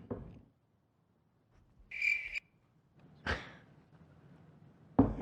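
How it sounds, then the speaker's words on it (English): A cricket chirping sound effect played as a joke to mark an awkward silence, heard as a few brief, separate high chirps with quiet gaps between them. "Crickets in here."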